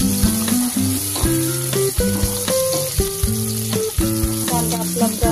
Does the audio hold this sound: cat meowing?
no